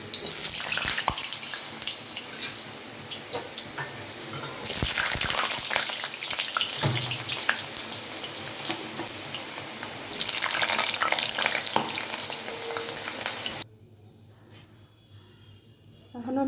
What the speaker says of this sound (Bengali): কড়াইতে সর্ষের তেল দিয়েছি তেলটা গরম হয়ে গেছে তো এখানে আমি আলুগুলোকে ভাজিয়ে দিচ্ছি